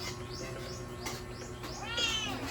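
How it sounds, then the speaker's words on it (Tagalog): A cat meows several times, short rising cries with a longer, louder one near the end, over a steady background hiss. "Meow!"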